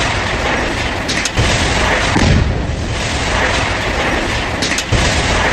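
A house is blown up in Jammu and Kashmir, and the blast comes through as a loud, sustained roaring rumble that fills the whole stretch with dense, continuous noise and no clear separate booms or voices.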